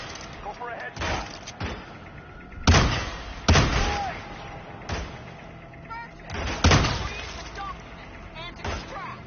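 Gunshots from the video game Hitman crack out sharply at irregular intervals, six or seven loud reports with short tails, alongside speech in the background.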